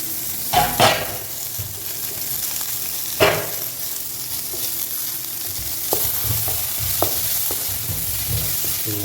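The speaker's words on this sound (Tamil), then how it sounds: "நான் டொமேட்டோ போட்டுறேன்" Tomatoes frying for kadai chicken, a continuous close sizzle in a pan with a few sharp clanks and scrapes of a spoon stirring, loud and steady with no talking.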